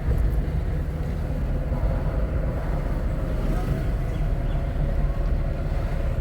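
A car's engine hums steadily inside the cabin while a learner driver shifts up into third gear at a driving school, a constant low drone with road rumble and no distinct break.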